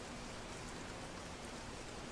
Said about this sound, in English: I still have no idea when the rain will let up